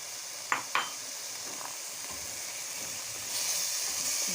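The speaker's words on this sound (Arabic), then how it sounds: "نقلب مع الدجاج تاعنا مع الحميصه مليح" A pan of onion, chickpeas and chicken frying on the stove, a steady low sizzle with a few soft clinks of a spoon stirring near the start.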